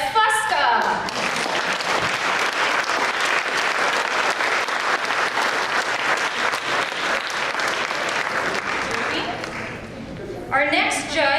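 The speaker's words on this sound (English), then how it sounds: "Everyone, please give a big round of applause for Jimmy the Balding Chef Fusca." A large audience at a chefs' cooking competition applauds loudly and steadily for about ten seconds, fading slightly near the end, with a voice briefly heard at the start and close.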